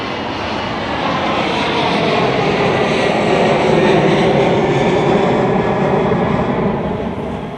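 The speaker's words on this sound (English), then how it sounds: "Oh my god, there's a plane." A jet airplane passes low near Milan Linate Airport, its loud, broad engine roar swelling steadily and holding close overhead before beginning to ease off.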